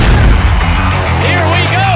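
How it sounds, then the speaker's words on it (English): Fireworks boom and crackle inside a lacrosse arena after the final whistle, loud and continuous over a roaring crowd while an announcer talks. "Fireworks on!"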